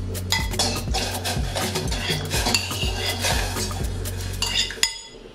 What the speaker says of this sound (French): On va donc rajouter les fruits de mer